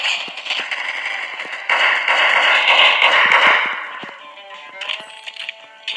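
Rapid crackling sniper rifle shots in a video game firefight, dense bursts of sharp reports blurring together over several seconds, then a quieter stretch with a few scattered clicks and taps.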